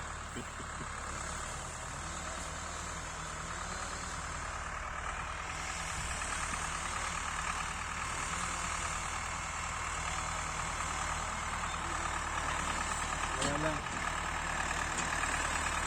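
Ford 5000 tractor idling during garden digging work, a steady low diesel rumble running unbroken from start to finish, close and fairly even, with a brief knock near the end.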